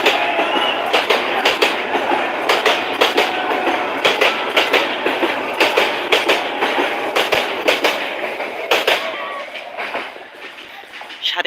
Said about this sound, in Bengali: রেল লাইনে আছে দেখেন একটা ট্রেন আসতেছে ট্রেনটা দেখাই তাহলে দেখেন